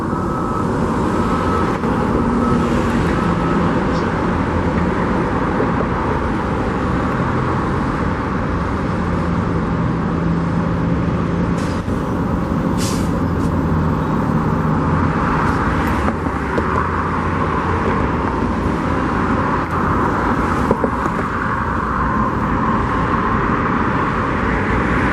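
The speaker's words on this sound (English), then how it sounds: "It's kind of noisy up here with all these trucks working" Construction trucks working near the Las Vegas Raiders' Allegiant Stadium build site, a loud constant rumble of engines and heavy machinery with continuous low droning and occasional higher whines, no speech.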